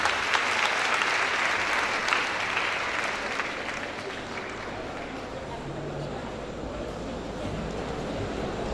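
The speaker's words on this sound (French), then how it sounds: "je vous demande d'applaudir votre marraine de graduation" A graduation ceremony audience applauds the class godmother, dense clapping that starts strong and slowly thins, with murmuring voices and low rumble underneath.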